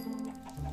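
Blocky chicken clucks from the Minecraft video game sound in one brief, busy burst over a steady game background.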